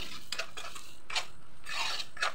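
A spoon stirs salt, chili powder and turmeric powder in a cooking pan, making faint, scattered scrapes and clinks of metal on metal in short irregular strokes, quiet and close, with no talk.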